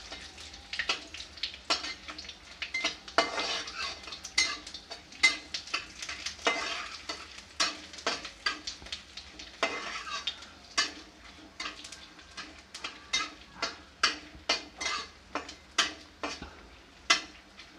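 Dried red chillies, bay leaves and panch phoron crackle and sizzle in a hot pan while a utensil scrapes and stirs in repeated rhythmic strokes, close and fairly loud.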